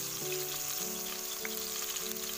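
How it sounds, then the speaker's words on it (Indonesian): Spice paste for beef satay sautés in a pan with a continuous soft sizzle. A faint, steady tonal hum runs beneath it. "kita tumis terlebih dahulu biar nanti tidak mentah, jadi agak matang seperti ini"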